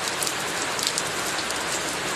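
Steady rain pours down and patters on surfaces nearby, a dense, even hiss that holds constant without pauses or voices.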